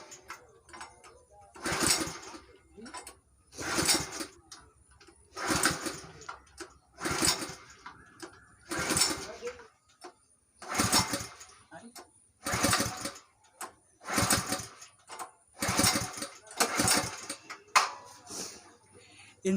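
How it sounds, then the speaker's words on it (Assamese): A cold water pump engine being pull-started in repeated attempts, about ten loud sputtering bursts at regular intervals of roughly two seconds, each fading quickly, with a person speaking faintly between pulls. "তো এতিয়া ইঞ্জিনটো ষ্টাৰ্ট কৰি চাওঁ"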